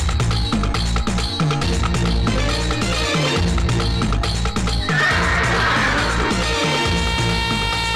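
A horse whinnies in a Kannada film comedy scene, the neigh rising briefly out of a loud, busy music soundtrack that plays throughout.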